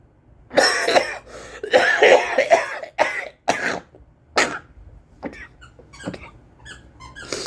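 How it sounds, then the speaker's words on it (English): A person coughs and clears their throat repeatedly, a cluster of harsh bursts close up followed by smaller, fainter coughs and throat sounds trailing off. "I got a cough"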